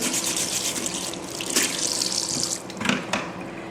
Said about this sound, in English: I'm just going to wash them really good and scrape them, brush them real good.